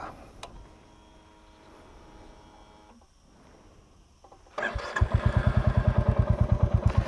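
A Royal Enfield Classic 350 motorcycle starts up after a few seconds of quiet rustling, then settles into a loud, steady thumping single-cylinder beat close to the microphone, alone with no talk.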